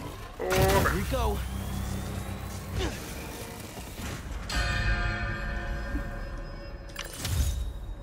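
A bell rings out in Spider-Man 2, its metallic strikes blooming into long, shimmering resonant tails, layered with clanking game mechanisms and crashing effects that swell and fade across the stretch.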